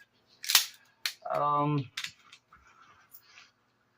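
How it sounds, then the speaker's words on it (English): A pistol's magazine drops and its slide locks open, a sharp click and a metallic clack with a short rattle between, followed by faint quiet handling. "Now I'll just drop the magazine, clear, and lock the slide open, and render it safe."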